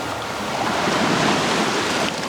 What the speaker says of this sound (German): Wasser.